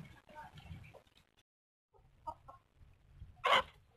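An Aseel hen gives a few soft clucks, then one louder squawking cluck near the end, with quiet murmuring voices in between.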